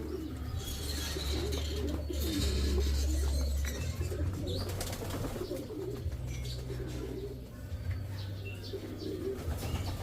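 Pigeons, including a blue bar, coo continuously in a loft, soft throaty calls overlapping with occasional chirps and faint wing rustles, nearby and steady throughout.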